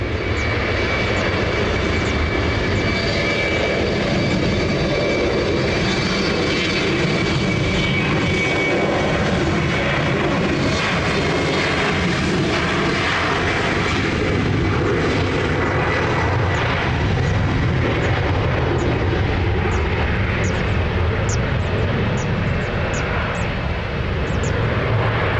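An airliner takes off from runway 20 at Lisbon Airport, a loud, sustained jet engine roar heard from nearby that stays steady and powerful throughout with no speech over it.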